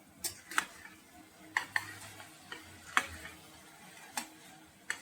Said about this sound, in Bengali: এটাকে দিয়ে আমি একটু ভালো করে নেড়ে নেব